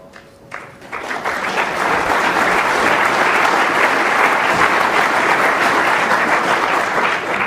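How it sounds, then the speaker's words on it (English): After a brief quiet moment, a World Snooker Championship final crowd breaks into warm applause for a safety shot, swelling quickly into a steady, loud round of clapping that carries on. "a very deserved round of applause for an excellent safety shot there from Ali Carter"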